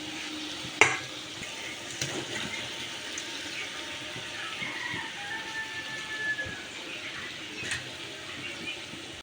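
Pieces of fried fish simmer in a pot of boiling water, a soft, low bubbling with a faint hiss, close but quiet, marked by a sharp clink near the start and another near the end.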